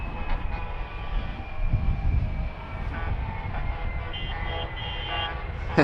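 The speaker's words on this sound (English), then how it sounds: "the A330 from DHL" A DHL Airbus A330 arrives at Amsterdam Schiphol, heard as a steady, moderately loud jet roar with a faint tonal whine, continuous throughout.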